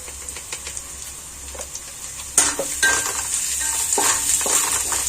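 Ginger garlic paste frying with chili powder in a pan on a cabbage fry, a steady close sizzle joined by sharp scraping and clinking of a spoon against the pan as the mixture is stirred, with no talking.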